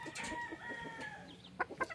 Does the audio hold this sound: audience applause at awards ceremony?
no